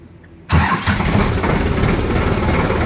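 A new Indo Farm 3048 DI 50 HP tractor engine cranks and catches abruptly after a moment of quiet, then settles into a steady, loud, close diesel idle.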